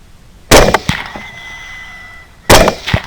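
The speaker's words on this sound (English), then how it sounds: "The second shot also connects. Third shot is in the ground." Gunshots fired at feral hogs on a hunt: two loud, sharp cracks about two seconds apart, each trailing into a brief echo, with a quieter pop and rustle in between.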